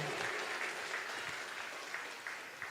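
Steady applause from a church congregation during a service, sustained and fairly loud throughout, with no voices above it.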